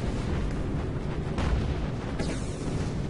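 Torpedo and gun explosions in the naval combat game Battle Stations Pacific form a continuous roar of booms and rumbling blasts, loud and dense throughout, with a couple of sharper bursts standing out near the middle and late in the stretch.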